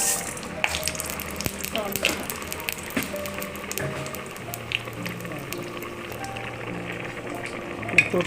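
Mustard seeds and dried chili sputter and sizzle in hot coconut oil for a raw jackfruit erissery, a steady crackling fry with scattered pops and a few kitchen clatters throughout.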